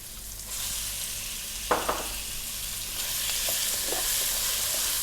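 Chicken breast hits a hot pan for pancit, starting a steady close sizzle with a couple of clunks as it is added and stirred, sustained and even throughout.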